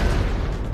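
A bomb explosion in the video game Max Payne 3, a loud, dense, booming blast with heavy low rumble filling the whole brief moment, no voices.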